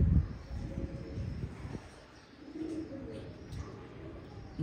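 Pigeons of a breeding pair coo softly in low, muffled bursts, close by with light rustling in between and no talking.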